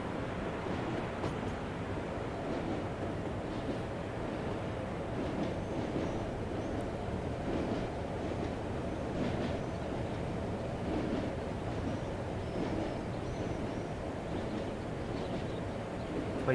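A BR Class 33 diesel locomotive in the Train Simulator game, heard from outside as a steady, continuous engine and rail rumble with a broad, even texture throughout and no talking.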